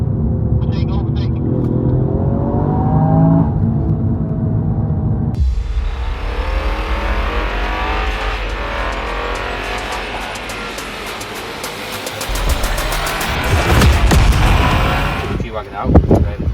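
Several cars, including a G-Wagon, a Toyota Yaris and a BMW M5, passing and overtaking during a car video shoot, a loud rumbling engine roar that swells as vehicles pass close, with voices heard at the start.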